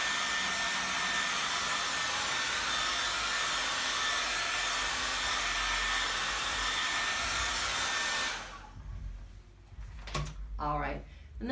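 A hair dryer blows steadily for about eight seconds over a freshly painted canvas, loud and close with a constant roar, then switches off and a few soft handling knocks follow.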